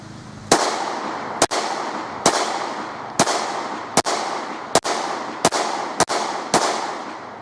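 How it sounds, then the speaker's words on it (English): A handgun fired at a target: eight sharp, loud shots at a steady pace of roughly one per second, each with a ringing outdoor echo that fades before the next, no talking. "So I shot the gun and I'm not really used to it"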